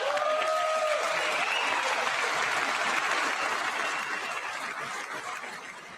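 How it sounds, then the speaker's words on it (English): Sustained applause from a large audience in a legislative chamber during a State of the Union address, dense and even throughout, slowly thinning toward the end. "I wasn't sure if anybody even on this side was going to applaud for that"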